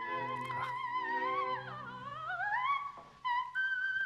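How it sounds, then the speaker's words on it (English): An old recording of soprano Erna Sack singing in the whistle register, with thin, very high sustained tones that slide and swoop, then settle on piercing held notes, faint and alone. "a very famous example by Erna Sack, singing in the whistle register"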